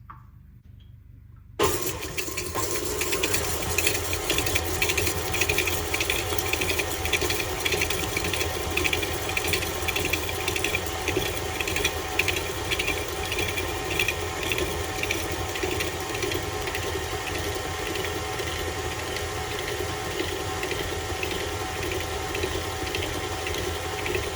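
An electric mixer creams butter, sugar and a large egg yolk into cookie dough, switching on after a brief near-silence and then whirring steadily and loudly for over twenty seconds with no talking.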